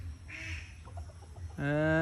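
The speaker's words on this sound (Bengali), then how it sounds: "ওদিকে হাঁস ডাকে" A duck quacks nearby outdoors, a couple of short nasal calls followed by a louder, sustained harsh quack at the end, over low background noise.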